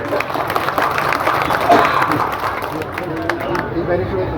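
Audience applause in a crowded hall at a community event in Faridpur, steady clapping filling the room for several seconds with some crowd murmur mixed in.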